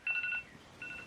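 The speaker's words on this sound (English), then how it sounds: "That's my alarm." A phone alarm ringing softly in a room, two short bursts of bright electronic beeping tones separated by a brief pause.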